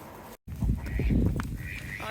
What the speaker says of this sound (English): Those ducks, they won't go in.